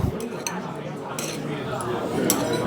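Metal utensils clink and scrape against bowls while street-food noodles are mixed at a busy Taiwanese night market, several bright taps scattered over a steady crowd murmur.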